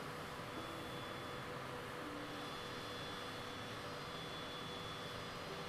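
An aircraft engine in a flight simulator video game roars as a steady, dense broadband drone with a faint high whine, unchanging and continuous throughout, with no talking.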